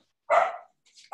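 A small dog gives one short bark in the background, faint and distant, followed by a soft whimpering trace.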